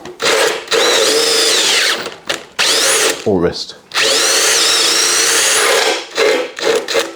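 A power drill turns a reamer inside a seized bicycle seatpost, whining in several loud bursts with short pauses between, while a voice speaks briefly during one gap.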